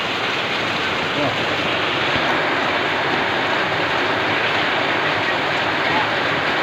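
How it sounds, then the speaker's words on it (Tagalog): Dense, steady hiss of heavy rain pouring down, loud and unbroken for the whole stretch. "Ulan guys, ulan oh."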